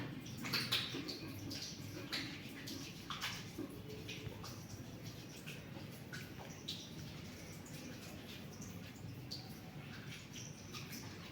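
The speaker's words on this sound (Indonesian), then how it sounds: "pastikan ada air di keran air dan juga mencuci tangan" Hands being washed under a running tap before putting on sterile gloves, a faint continuous splash and patter of water with irregular rubbing and dripping close by.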